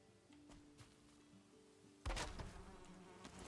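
Bees from a queen bee hive in the Valheim video game give off a low, faint buzzing drone, then a sudden louder burst of game noise in the second half, with no talking.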